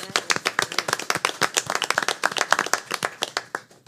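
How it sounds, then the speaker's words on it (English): Audience at a school board meeting claps for the 2022 career and technical education completers: a burst of crisp, scattered hand claps from a modest group, steady for a few seconds, then thinning out. "let's give those students a round of applause"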